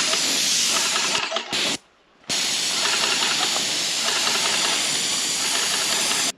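Avanti airless paint sprayer spraying during a guest house renovation, a loud steady hiss that cuts out briefly twice and then resumes continuously.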